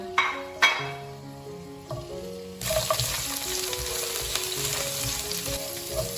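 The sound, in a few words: stir-frying five-finger peach root and ginger in pot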